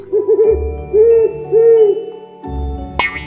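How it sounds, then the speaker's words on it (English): An owl hoots several times in clear, resonant, wavering calls, loud and alone, ending with a brief sharp sound. "O is for owl."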